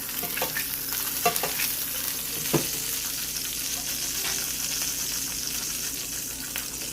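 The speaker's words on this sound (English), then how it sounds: "How's the sizzle, guys?" Fish frying in a pan gives a steady, fairly quiet sizzle with scattered crackles and a few sharper pops.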